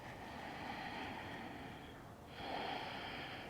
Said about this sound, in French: Et retrouve une respiration naturelle par le nez.